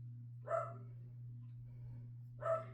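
An older dog barking outdoors in a neighborhood, two single barks about two seconds apart, moderately distant over a constant low hum.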